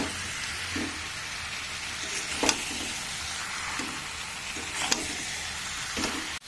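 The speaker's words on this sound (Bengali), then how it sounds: "এবার সবকিছু একসাথে ভালো করে নেড়ে মিশিয়ে নেব।" Spiced meat seasoned with salt and turmeric fries in a pan, with a steady close sizzle broken by several soft scrapes and knocks as it is stirred, and no talking.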